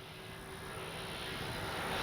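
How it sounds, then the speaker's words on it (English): Dynam Tucano RC model airplane in flight, giving a steady, fairly distant engine drone that grows slightly louder over two seconds, with no talking. "This is a great flying plane."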